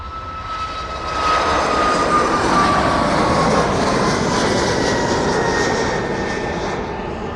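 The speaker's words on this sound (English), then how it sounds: "Right now, 737 MAX off to Dublin this afternoon." A Boeing 737 MAX bound for Dublin roars on departure at East Midlands Airport, a loud, sustained jet engine rumble with a rising whine that holds steady and then slowly eases off.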